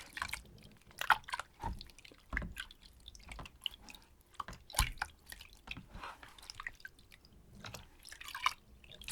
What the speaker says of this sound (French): Allez, on passe l'eau.